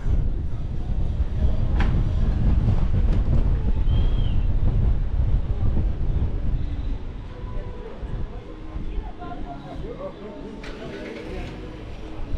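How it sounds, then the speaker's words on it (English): Gusting wind buffets the microphone in a rustic Andean village at Purmamarca, Argentina, with a heavy low rumble that eases off toward the end. A voice speaks briefly over it. "Uh-oh, windy."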